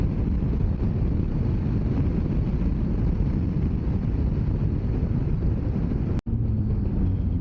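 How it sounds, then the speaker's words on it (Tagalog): Strong wind near coastal windmills in northern Luzon roars and buffets the microphone in a constant low rush, broken by a brief click near the end. "Ang lakas ng hangin dito."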